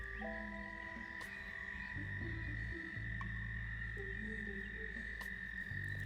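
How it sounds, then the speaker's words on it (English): Frogs croak outdoors with no talk, their calls repeating in steady overlapping rhythm with a constant high insect-like trill behind them. "I want singing frogs."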